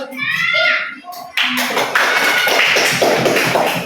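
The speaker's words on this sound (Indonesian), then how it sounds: "Oke, tepuk tangan dulu." Students in a classroom burst into dense, lively group clapping right after a teacher's voice, and the clapping stays strong to the end.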